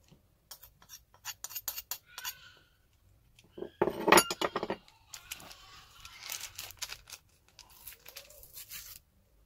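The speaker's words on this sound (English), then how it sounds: "then going to be mixing it together" Dry ingredients for Nigerian butter chin chin, including a pinch of salt, being mixed in a bowl: close, irregular scraping, rustling and clinking bursts with brief pauses and one louder scrape near the middle.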